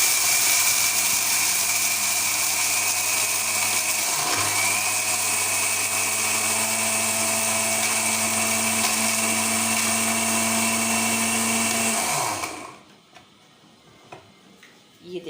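An electric mixer grinder spins roasted garam masala in a loud, steady whirring grind with faint rattling, then winds down abruptly near the end into quiet room sound.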